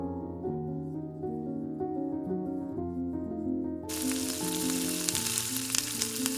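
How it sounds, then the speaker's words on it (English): Chopped tomatoes and paprika hit a hot pan partway through and burst into a loud, steady sizzle, with stirring, over background music that plays throughout. "Now add 3 large chopped tomatoes and mix everything together."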